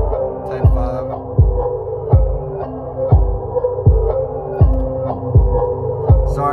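Ambient R&B instrumental beat driven by deep 808 bass, with a steady, slow thump recurring about every three-quarters of a second under a sustained hum and soft melodic layers, loud and unbroken with no talking.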